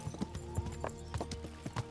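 Horse hooves clip-clop in Kingdom Come: Deliverance, a steady rhythm of about six close, moderately loud hoofbeats over low game ambience during a ride.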